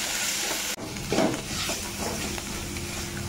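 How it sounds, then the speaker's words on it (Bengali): Ground radish leaf paste sizzles in a pan while being stirred, a steady close frying hiss broken by scraping stirs and a short clank, with no voices. "খুব ভালোভাবে মিশিয়ে এখানে ভেজে নেব 2 মিনিটের মতো"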